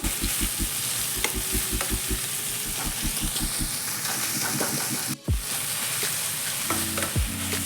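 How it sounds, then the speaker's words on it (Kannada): Onions fry on high flame in a pan for village-style chicken sambar, giving a steady, loud sizzle. A spoon scrapes and stirs in regular knocking strokes, followed by a brief pause and then renewed stirring. "ಹೈ ಫ್ಲೇಮ್ ಇಟ್ಕೊಂಡಷ್ಟು ಈರುಳ್ಳಿ ಬೇಗ ಫ್ರೈ ಆಗುತ್ತೆ."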